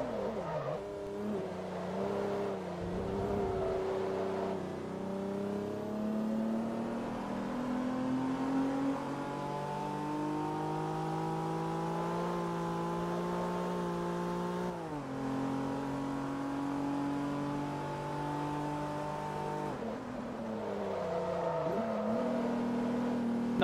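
Engine of a sluggish-cornering car in Forza Motorsport 3 during a Class E Post-'03 Asian Tour race, revving up and down through repeated gear shifts with rising and falling pitch, steady and unbroken throughout, no talking.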